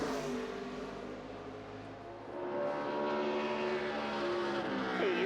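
A NASCAR Nationwide Series race car at Bristol during qualifying, its engine droning steadily through the lap and rising in pitch and loudness toward the end, with a broad, continuous roar and no voices.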